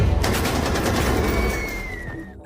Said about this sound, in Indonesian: tanpa disangka, tembakan nyasar Felipe barusan ternyata mengenai Kolonel Lom